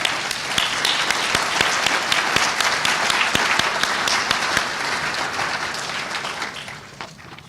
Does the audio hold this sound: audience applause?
yes